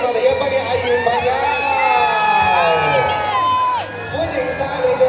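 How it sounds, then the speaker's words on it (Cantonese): A crowd cheers and whoops loudly at a TVB drama promotional event for Mother's Day as cast members are welcomed. High excited voices and shouts blend into a dense, steady roar that dips briefly near the end. "用我哋最熱烈嘅掌聲同埋歡呼聲，邀請我哋一班嘅藝員朋友"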